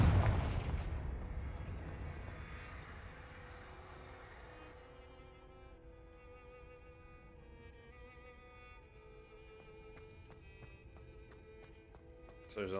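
A Confringo fire spell in Hogwarts Legacy opens with a heavy booming blast, then a long decaying rumble with ringing tonal game effects and soft clicks, ending with a sharp burst.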